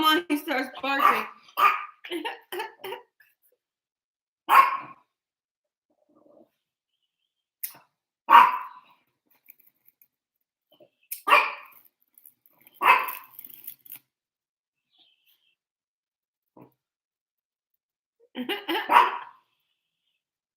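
Scattered, isolated dog barks close by, separated by long silent gaps, with a little speech at the start.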